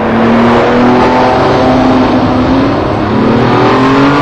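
A Ferrari F50 accelerating hard, its engine roaring loud and continuous from close by, the pitch sweeping upward through the revs with a brief dip mid-way.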